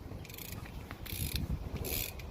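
A ratchet wrench tightens a differential gasket bolt, producing three short bursts of rapid, close metallic clicking over a low background rumble.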